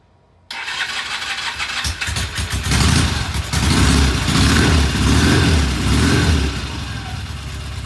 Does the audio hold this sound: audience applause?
no